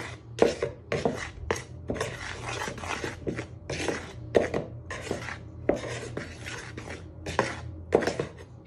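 A knife mixes dry fruit cake ingredients in a bowl, close rhythmic scraping and tapping strokes repeating in quick bursts with brief pauses between them, moderately loud and free of speech.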